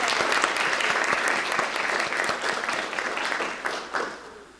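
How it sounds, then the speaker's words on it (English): Sustained audience applause at an alumni induction ceremony, a dense even wash of many hands clapping that holds steady and then tapers slightly toward the end, with no talking over it. "Let's give them one more round of applause."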